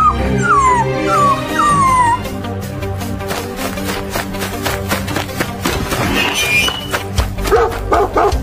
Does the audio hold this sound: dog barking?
yes